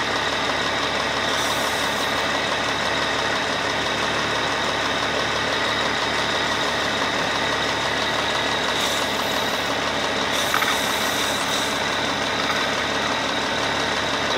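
A car engine idles steadily during a tap-water decarbonization, a loud, continuous, close rumble with slight uneven bucking and a couple of short surges in the hiss.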